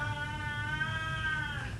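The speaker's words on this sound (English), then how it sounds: "Cat's at the door." A cat meowing at a door, one long, drawn-out, wavering meow that is close and clear, with no talking.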